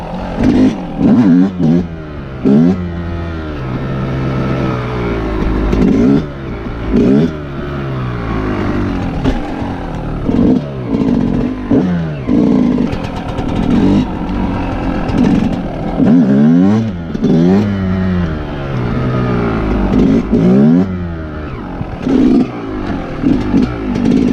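A Yamaha YZ 125 two-stroke dirt bike revs hard again and again during wheelie practice. Loud, close bursts of throttle rise and fall in pitch in a repeated rhythm, with no talking.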